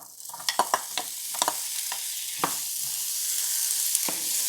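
Potatoes frying in hot oil in a large pan over medium heat, a steady broadband sizzle with several sharp crackles and utensil clicks early on, close and fairly loud with no talking.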